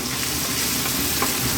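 Chicken stew with bell peppers sizzling steadily in a pot while being stirred, a close, continuous frying crackle with scraping from the spoon.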